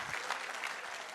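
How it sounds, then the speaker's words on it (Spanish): A church congregation applauding during a Spanish-language sermon, a steady wash of clapping that holds at a moderate, fairly distant level for about a second with no voices over it. "Si va a aplaudir a Jesús, hágalo con toda su fuerza."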